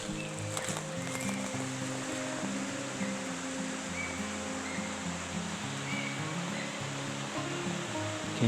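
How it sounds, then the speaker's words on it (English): A waterfall in the Kaimanawa Forest gives a constant broadband rush of falling water, steady and moderately loud, with faint tonal sounds drifting over it. "Look at this beautiful waterfall."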